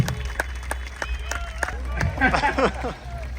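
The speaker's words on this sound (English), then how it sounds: "Give him a round of applause." A crowd at the ABR motocross festival claps for a rider after an obstacle section over a log step, with scattered sharp claps swelling into louder applause and cheering beneath an announcer's voice.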